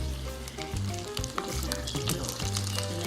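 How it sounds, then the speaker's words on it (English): Brown sugar melts in a pan over medium heat, giving a close, continuous sizzle with soft crackles and light stirring scrapes throughout. "And the sugar is already melting along the side."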